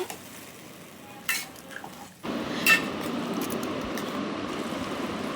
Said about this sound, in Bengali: কচু শাক সিদ্ধটা কড়াইয়ের ভিতরে আমি এবার দিয়ে দেব দিয়ে একটু খুন্তির সাহায্য বেশ ভালো নাড়াচাড়া করে নেব